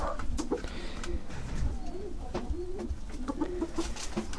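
Pigeons cooing in a loft, with repeated low throaty coos and soft rolling calls, some wing flutters and scattered sharp noises over steady background hum.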